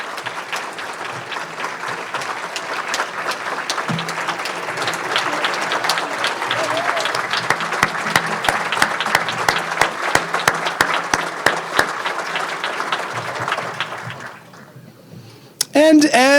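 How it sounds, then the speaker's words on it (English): Sustained round of applause from a Rotary club audience welcoming new members, dense steady clapping for about fourteen seconds before fading out, with a voice briefly heard at the end. "let's give a huge round of applause for Clement and Matt"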